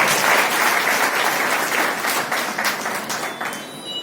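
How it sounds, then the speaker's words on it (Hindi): A large crowd at a political rally claps loudly and steadily in welcome, a dense wash of applause that holds strong for about three seconds before thinning slightly near the end. "आपसे विनती करता हूं कि जोरदार तालियों से आप उनका स्वागत"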